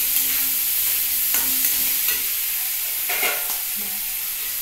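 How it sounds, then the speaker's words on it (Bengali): Potatoes frying in a pan for semolina upma sizzle steadily at close range, with a few scraping stirs of the spatula cutting through the hiss. "সুন্দর ভাজার জন্য আমাকে অপেক্ষা করতে হবে, দেখতে হবে আলুটা বয়েল হয়েছে কিনা।"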